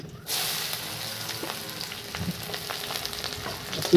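Garlic and red chili sizzle steadily in hot oil in an outdoor village kitchen, a loud continuous frying hiss with faint stirring scrapes and a sharp crackle at the end.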